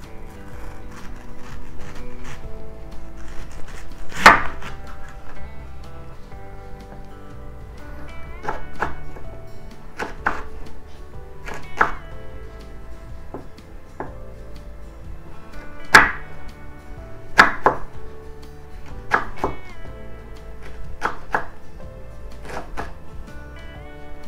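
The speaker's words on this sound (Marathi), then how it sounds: "तर ह्या ज्या कैऱ्या आहेत त्या मी बारीक फोडी करून घेणार आहे।" A knife cuts raw green mangoes into small pieces for pickle, making irregular sharp chopping thunks on a board, close and moderately loud with no talk.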